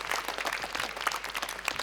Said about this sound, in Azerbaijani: Gəlin dostlarımızı alqışlayaq və onları yola salaq.